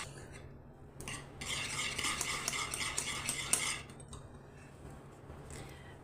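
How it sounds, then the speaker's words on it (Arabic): A spoon scrapes and swirls through thickened homemade cooking cream in a pot, a soft bright rustling that swells for a few seconds in the middle and then fades, fairly quiet with no talking. "اكيد مع التحريك المستمر باش ما درناش تكتلات"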